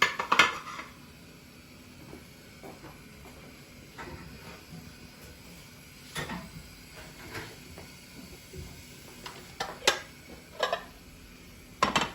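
Pasta plates and cutlery clink and clatter while meatball pasta is served, with irregular light knocks and scrapes, a few brighter chimes of metal on ceramic, and a faint hiss underneath.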